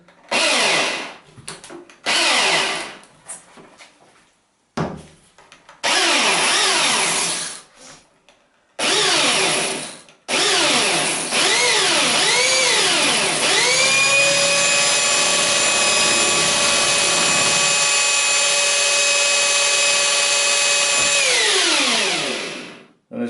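A Hilti hammer drill bores into porcelain tile in short start-stop bursts, then settles into a long, steady, high-pitched whining grind before spinning down, all close and loud with no talk.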